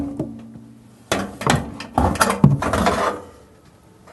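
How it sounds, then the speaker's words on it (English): Heavy motor being pulled out of the back of a front-load washing machine: scraping, clunking metal and rubbing bursts in irregular bunches, close by, no talk. "So now the motor should just pull away."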